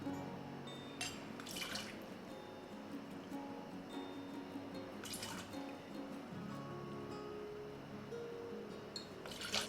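Donn's Mix is poured into cocktail shaker tins, giving faint, brief splashes and trickles at a few moments against a quiet, lightly rustling room background.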